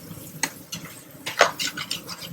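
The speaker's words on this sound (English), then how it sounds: "So let's stir it around." Onions stirred in a pan as they cook and brown, a few short scraping strokes and soft clatters close by, with a faint sizzle between them.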